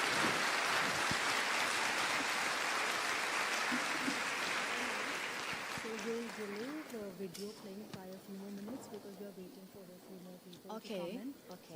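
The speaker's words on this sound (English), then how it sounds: "Applauses, please." An audience at a gathering in Azerbaijan applauds in a dense, sustained wash of clapping that gradually fades, giving way to a voice speaking over the tail end.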